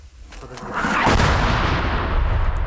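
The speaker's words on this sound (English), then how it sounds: "Russian shelling intensifies to prevent capture." Russian artillery shelling during heavy fighting, heard as a dense, continuous roar of blasts and rumbling that builds after a quieter start and stays loud, with no clear gaps between impacts.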